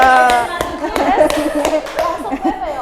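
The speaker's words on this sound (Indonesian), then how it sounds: "tepuk tangan untuk Bu Ica" A small group claps for a teacher during a training session, with a handful of irregular, distinct claps mixed under overlapping voices and chatter.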